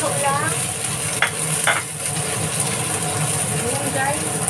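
Shallots, onion and garlic sautéing in a pan while being stirred, with a steady close sizzle, a couple of sharp spatula scrapes and occasional talk over the cooking.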